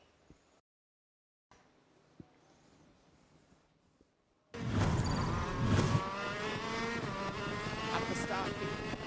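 A KZ kart engine roars loudly and steadily from onboard during a lap of the Genk circuit in Belgium, its pitch rising and falling with gear changes after a few quiet seconds at the start.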